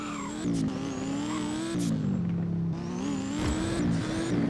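A racing car engine in the Roblox game Driving Empire whines and revs through gear changes, the pitch climbing and dropping repeatedly, with a synthetic game-like tone and no talking.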